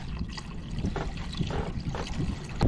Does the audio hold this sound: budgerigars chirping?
no